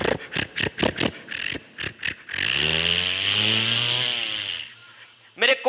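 A voice imitates a Ford tractor engine. Several sharp sputtering bursts lead into a sustained, rumbling idle that runs for a couple of seconds before cutting off, all loud and close.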